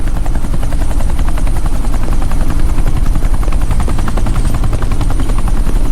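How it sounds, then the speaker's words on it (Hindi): A helicopter flying in to land on an airport tarmac, its loud rotor chop pulsing rapidly and steadily with a heavy engine drone, close and continuous throughout. "ये हेलीकॉप्टर सीधे एयरपोर्ट के टारमैक पे लैंड होगा।"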